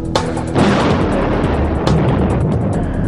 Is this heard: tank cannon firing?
yes